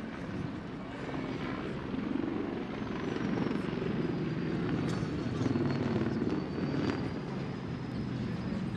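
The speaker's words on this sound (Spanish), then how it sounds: "A su diestra apreciarán aeronaves, helicópteros Mi-35, Mi-25, que proporcionarán la escolta" Mi-35 military helicopters thrum steadily with a dense rotor and engine roar that holds throughout, loud and constant, with a faint whine above, during a Peruvian Air Force ceremony.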